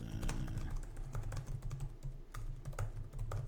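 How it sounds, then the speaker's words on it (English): Rapid keystrokes clatter on a computer keyboard, close and continuous, over a low steady hum. "I'm typing this out to you."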